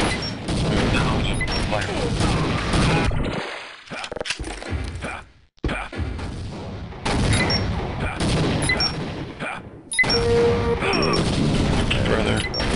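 Gunfire and explosions in Team Fortress Classic during a capture-the-flag pickup match, loud dense volleys in several long stretches broken by brief pauses, with voices talking over the action.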